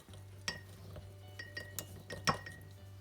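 Rose bath oil salts are stirred in a container with a utensil, making a few light clinks and taps against the sides over a steady low hum, close and quiet.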